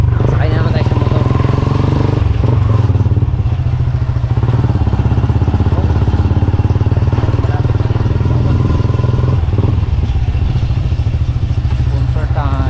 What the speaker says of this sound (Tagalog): Sakay na naman tayo sa motor.